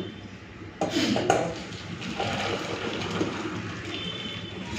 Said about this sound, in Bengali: তো মসুর ডালটা রান্না হয়ে গেছে, ঢেলে নেব।